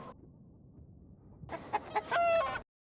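Chickens from the TV show Fallout, a few short clucks and a brief squawking burst after a quiet stretch, fairly close and clear, ending abruptly.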